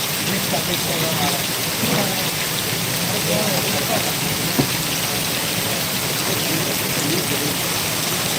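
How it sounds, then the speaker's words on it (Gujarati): Steady heavy rain pours down continuously, a dense broadband wash with a faint low rumble underneath; no clear thunderclap stands out. "આજ વરસાદ ભર્યો એમ"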